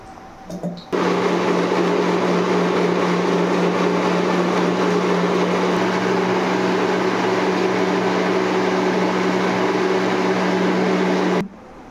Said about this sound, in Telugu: దీంట్లో వేసా 2 ముక్కలు కొబ్బరి, అల్లం, వెల్లుల్లి వేసి మొత్తం మిక్సీ పట్టి చూపిస్తానండి.